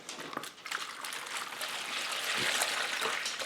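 Water from a jug pours into a dish pan, a steady splashing trickle that builds slightly louder toward the end, heard alone at close range.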